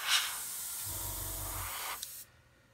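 A spray paint can hisses out green paint in one steady, close burst lasting about two seconds, then cuts off to near silence.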